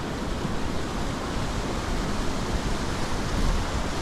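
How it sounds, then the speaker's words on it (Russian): A small mountain waterfall near Rosa Khutor and Krasnaya Polyana in February, flowing in a steady, broad rushing wash that stays close and even for the whole stretch with no voices. "Вот такой водопад здесь."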